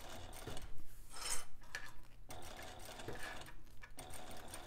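A sewing machine stitching a wristlet bag in the round runs in short, uneven bursts with brief pauses, its close mechanical whir and clatter fairly quiet.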